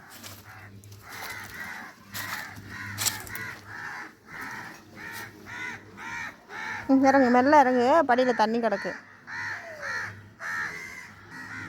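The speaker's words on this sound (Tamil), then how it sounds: "காக்கா நிறையா வந்துடுச்சு." Crows caw repeatedly around a rooftop terrace after rain, with a chicken nearby, mixing with close conversational talk and footsteps; harsher calls cluster loudly in the middle.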